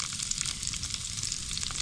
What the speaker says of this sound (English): it's that hot that it started sizzling already